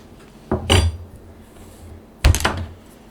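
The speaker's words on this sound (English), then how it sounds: "I just have a butter knife here to kind of cut chunks off at a time as I need them." Two short clattering knocks as a butter knife cuts chunks off a mass of salt dough, sharp contacts against a hard surface with a pause between them and no talk.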